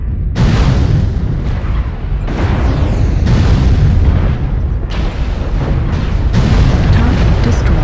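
A video game attack on an enemy base, where destroyed targets blow up in a series of loud, heavy explosions and booms that roll on without a break, with a brief voice in the mix.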